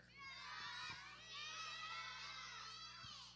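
A group of children at a church service shouts a name out loud together, a loud, sustained burst of young voices lasting a few seconds with faint thumps underneath.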